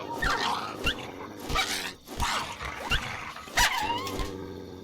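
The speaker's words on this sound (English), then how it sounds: "Oh, another dog, of course." A dog in the video game Fallout 3 barks and yips in a quick series of sharp, loud, close calls with some whimpering mixed in, standing alone without talk.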